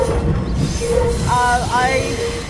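A steam train on the Cape Town to Elgin rail journey rumbles steadily along the track, with people talking over the continuous rolling noise.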